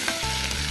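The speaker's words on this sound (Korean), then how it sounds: "여기다가 해동한 차돌박이를 넣어서 같이 볶아주세요." Potatoes and thawed beef brisket stir-frying together in a pan for a braised potato dish, giving a steady, close sizzle with soft scraping of the stirring utensil throughout.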